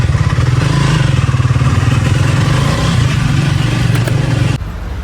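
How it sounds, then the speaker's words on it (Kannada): A heavy-sounding motorcycle idling nearby outdoors, a loud, steady pulsing thump of the engine that runs evenly and then drops away sharply near the end. "ಒಂದು ಬೈಕ್ ಇಲ್ಲಿದೆ."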